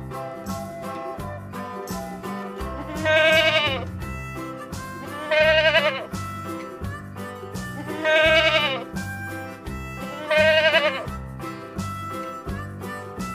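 A young goat bleats four times in a wavering, tremulous call, spaced a few seconds apart over a steady children's song with music running beneath.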